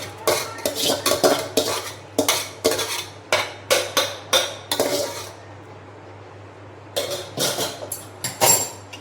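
A spoon clinks and scrapes against a bowl while handvo batter with bottle gourd, onion and soda is mixed, in quick rhythmic bursts of metallic taps, pausing briefly before resuming, close and clear.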